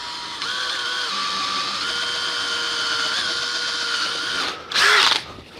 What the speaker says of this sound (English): don't drill into the shell